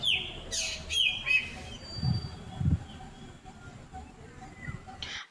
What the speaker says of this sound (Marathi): सकाळी सकाळी तर पक्ष्यांच्या आवाजाने सुरुवात झाली